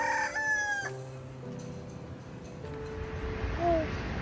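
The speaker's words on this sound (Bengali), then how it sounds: "মোরগ দেখে আমার এলির এক্সপ্রেশন দেখো।" A rooster crows once, loud and close, its long call bending in pitch and then tapering off, with a brief second call near the end and light background noise.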